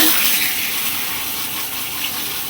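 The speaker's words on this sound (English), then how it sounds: "I'm going to rinse them in cold water" Hair extensions rinsed under cold running water from a tap, a steady broadband rush and gush of water close by, continuous and fairly loud with no talk.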